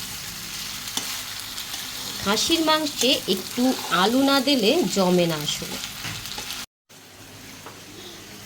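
Mutton being sautéed with fried potatoes in a pan, a soft sizzle and stirring running under a close voice talking throughout, ending in a brief cut of silence.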